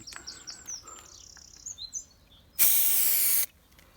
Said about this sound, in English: Now I'm going to do a little test spray on this piece of wood